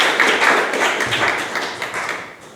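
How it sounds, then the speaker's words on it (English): A Toastmasters club meeting audience claps to welcome a speaker. The burst of applause is short and dense, and it fades gradually over a couple of seconds. "So please welcome with big round of applause Toastmaster Manju."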